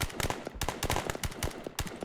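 Rapid bursts of gunfire from an unseen shooter in the video game Glory To The Heroes, sharp repeated shots in an irregular rhythm, loud and close, with no talk.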